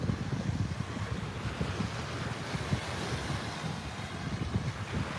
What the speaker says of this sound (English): And that noise you hear, well, that's the ocean.